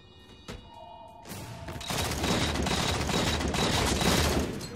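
Rapid bursts of gunfire rattle through a Halo capture-the-flag match, a dense, continuous fusillade that builds after a brief quieter start and keeps hammering steadily to the end.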